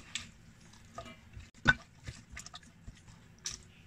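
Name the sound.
stirring chili and spring onion into the dish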